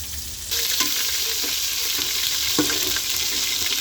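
Onion, ginger, garlic and cumin pastes with green chilies and garam masala hit hot oil for a country chicken curry, bursting into a loud steady sizzle with intermittent spoon stirs and scrapes close by.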